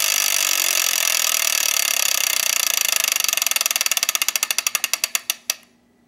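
A Wheel of Fortune game-show wheel spins, its rapid clicking slowing steadily into widely spaced ticks before stopping abruptly.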